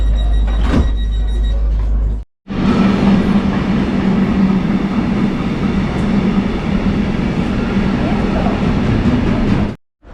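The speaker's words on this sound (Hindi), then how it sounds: "इसी ट्रेन में जाना है।" A train at a small German village station, a loud, close rumble and rattle of cars rolling along the platform that runs for several seconds after a brief drop-out, then cuts off again near the end.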